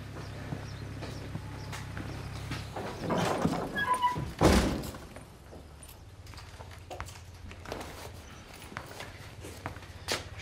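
A door is shut with a solid thunk amid shuffling footsteps and movement inside a workshop, followed by quieter room noise and light scuffs.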